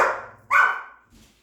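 Dogs playing indoors let out two loud, close barks about half a second apart, followed by a faint softer yip, with no talking.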